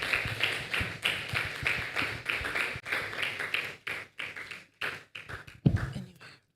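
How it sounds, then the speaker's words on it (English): Audience applause for a CEO being introduced at a women's business roundtable event: dense clapping in repeated bursts with short gaps, moderately loud, fading into sparser claps near the end. "Please let's give her a round of applause."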